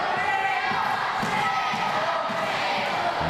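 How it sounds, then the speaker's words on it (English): Wrestling fans at a W3L Wrestling Showdown event chant for the wrestler Grado, a steady, loud crowd roar with rhythmic voiced chanting filling the arena and a few dull thuds beneath it. "the crowd all chanting for Grado"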